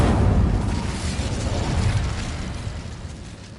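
An Incendio fire spell cast in the Hogwarts Legacy video game produces a thick, roaring, explosive rush of flame, loud at first and slowly tapering off over a few seconds.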